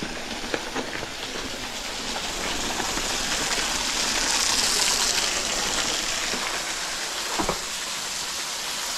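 Steady broadband rushing of a waterfall along a trail at Devil's Den State Park, continuous and fairly loud, with no voices.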